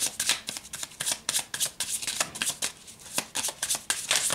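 Tarot cards being shuffled by hand, a rapid run of crisp riffling bursts repeating steadily at close range, with no talk over them.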